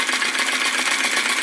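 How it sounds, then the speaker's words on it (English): Retrol VE-01 flame licker (vacuum) crossbeam model engine running at high revs, a steady close whirring hiss with fast, even pulsing and no talking. "the revs are picking up in the engine."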